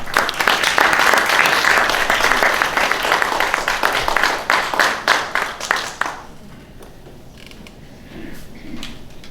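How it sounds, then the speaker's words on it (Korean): An audience at a patent academy lecture event in Korea claps loudly for about six seconds to welcome the speaker. The applause thins to scattered claps and fades into quiet room sound. "큰 박수로 맞이해 주십시오"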